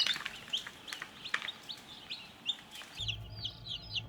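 Newly hatched chicks and tiny quail chirp in a steady stream of high, overlapping peeps, close by and fairly loud, with no talking.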